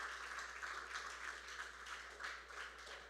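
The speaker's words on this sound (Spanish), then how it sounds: "¿Puede darle un fuerte aplauso al Señor?" A church congregation applauding the Lord during a Spanish-language Friday sermon, a faint, steady, distant wash of many hands clapping with gentle swells in loudness.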